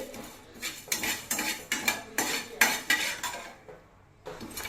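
Whole spices, including cumin, fennel, cloves and stone flower, dry-roast in a pan on low heat while a metal spoon stirs them. The spoon scrapes and clinks in a regular rhythm of repeated strokes, close and fairly loud, with a short pause near the end.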